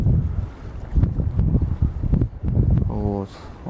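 Wind buffets a microphone beside the Western Dvina river, booming low gusts that rise and fall under a man's nearby speech.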